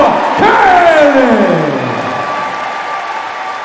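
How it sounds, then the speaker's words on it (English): A strongman contest crowd at the Strongman Classic 2022 erupts in loud cheering and applause, with a falling announcer-style voice tone riding over the roar before it slowly settles. "make some noise for the United States of America's own, Rob Kearney!"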